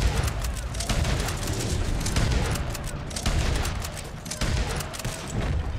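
Rapid bursts of gunfire and booming shots ring out in Red Dead Online, dense and loud, with repeated sharp reports across the whole stretch.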